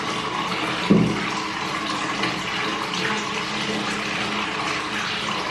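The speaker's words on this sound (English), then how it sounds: "just drop the bath bomb in there" A bath bomb drops into a filled bathtub with a single soft splash, followed by steady fizzing and running-water wash throughout.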